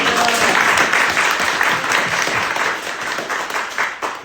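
Steady applause from a crowd, dense clapping that holds for several seconds before thinning slightly toward the end.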